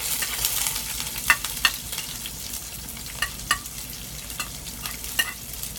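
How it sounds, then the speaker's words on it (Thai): Garlic and chili being stir-fried in a pan for basil shellfish, a steady close sizzle with scattered sharp clicks and scrapes of a utensil stirring, no voices. "ผัดให้หอม"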